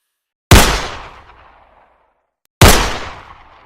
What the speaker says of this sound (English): The cold, metallic echo of two gunshots shattered the silence of the camper.